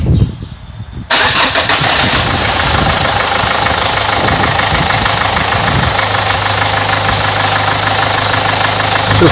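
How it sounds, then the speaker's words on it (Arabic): A diesel car engine, just after its fuel circuit was cleaned, cranks and fires abruptly, then settles into a loud, close, steady idle with a rough knocking clatter; the tone shifts slightly partway through as it keeps running. "نشغل المحرك باش يدور الماء اكثر."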